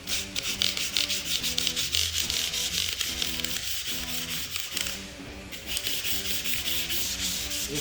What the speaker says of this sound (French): une petite cale à poncer en mousse